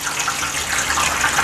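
About a liter of hot water gushes steadily into a roasting pan beneath a duck on a rack, a continuous close splashing pour with no talk.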